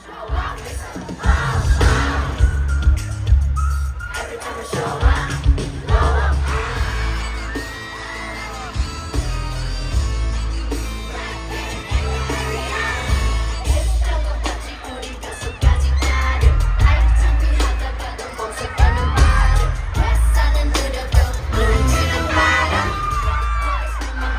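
Large concert crowd of Arab fans at a show in Abu Dhabi, a loud, sustained roar of singing, cheering and yelling, with bursts of whoops and bangs rising and falling across the whole stretch.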